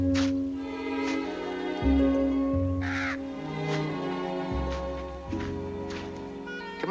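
A crow caws several times in separate harsh calls spread across a few seconds, heard over a low musical background.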